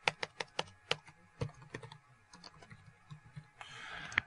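A street address being typed on a computer keyboard as quick bursts of close key clicks, a pause, then a final flurry and a brief rustle.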